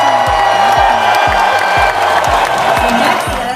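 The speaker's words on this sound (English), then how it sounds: "A round of applause," An audience of students applauds debate competitors from a hospitality management class, with dense, loud clapping and some cheering sustained throughout.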